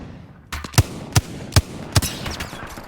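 Rapid gunfire in a squad battle-royale video game, five sharp, evenly spaced shots ringing out loud over a steady background bed, with no talking.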